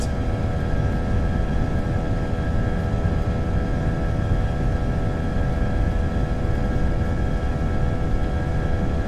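Airliner jet engines spool up to takeoff thrust in the Prepar3D flight simulator, a steady loud roar with sustained whining tones, holding constant throughout without talk.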